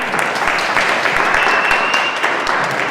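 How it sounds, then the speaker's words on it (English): Audience applause at a provincial library youth summit, steady, loud and continuous clapping from a large crowd filling the whole stretch. "let's give her a big round of applause"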